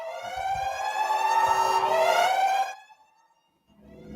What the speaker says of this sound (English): That's stinking siren.